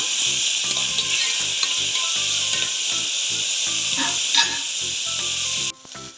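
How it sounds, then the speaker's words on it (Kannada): Tomato sizzling and frying in a pan with oil, stirred in steady rhythmic scrapes; a continuous loud hiss runs throughout, dropping suddenly near the end. "ಟೊಮೊಟೊ ಹಾಕ್ಕೊಂಡು ಮಿಕ್ಸ್ ಮಾಡಿ ಟೊಮೊಟೊ ಸಾಫ್ಟ್ ಆಗೋವರೆಗೂ ಬೇಯಿಸ್ಕೊಳ್ಳೋಣ"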